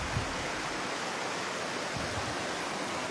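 The Cascade de la Queue de Cheval waterfall in the Jura gives a steady, dense rush of falling water, close and even throughout with no voices over it.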